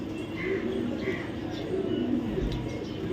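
Sobji racer pigeons, a red-eyed pair, coo softly and steadily at close range, with faint chirps over a low murmur of background voices.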